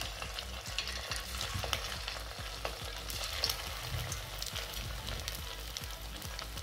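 Home-made fasting bhaji fritters fry in hot oil with a steady, close crackling sizzle, dotted with small pops and the clatter of stirring.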